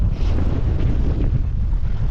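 Strong blizzard wind buffeting the microphone in a steady, loud low roar with no pauses.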